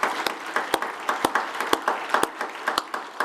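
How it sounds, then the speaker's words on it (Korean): A church congregation at a Friday worship service applauds its youth and young adult groups. Sharp, evenly spaced loud claps keep a steady beat about twice a second over a softer bed of scattered clapping. "다시 한번 우리 중고등부와 청년부 우리 격려의 박수 한번 드리겠습니다"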